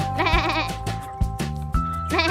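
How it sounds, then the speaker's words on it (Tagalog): Goats in a farmyard at Timpayawan bleat repeatedly and loudly up close, several wavering cries following one another with short gaps between them. "Sa ganitong kambing sa Timpayawan."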